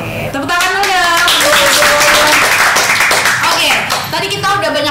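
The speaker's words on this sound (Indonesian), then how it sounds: "Tepuk tangan dulu." A group claps hands during a chat show, a burst of applause rising and filling the middle of the stretch, with voices whooping and talking over it at the start and end.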